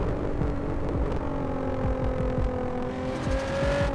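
A simulated car engine in the Assetto Corsa racing game drives along a dark highway in Japan, a steady, close, throbbing drone with rising tonal whine toward the end, alone without talk.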